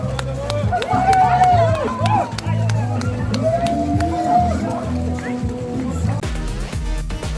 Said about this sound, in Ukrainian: Ваші оплески сьогоднішнім бігунам!